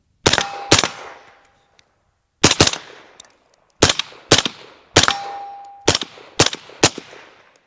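Suppressed 9mm carbine, a 9.69 Ghetto Weasel, fired in a series of sharp close reports, mostly in quick pairs separated by short pauses, each with a metallic ring and a brief decaying tail, with no voices.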